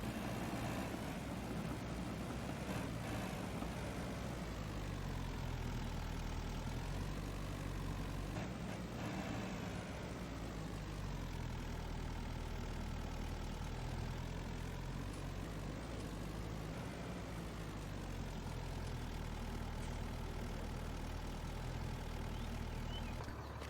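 A John Deere 85G excavator in Farming Simulator 22 is driven up onto a trailer, its engine giving a continuous, even drone with slight rises in pitch for the whole stretch.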